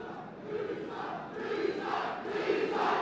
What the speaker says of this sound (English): As you can hear, Misael Lopez brings a full house.